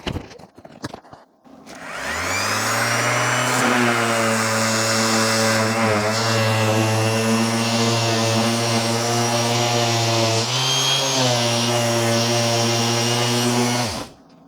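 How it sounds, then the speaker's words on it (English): A steady, loud motorized whine starts after a couple of seconds and runs continuously, like a power sander droning with slight dips in pitch, heard while a BASE CAMP M Pro dust mask is worn. "let's get sanding"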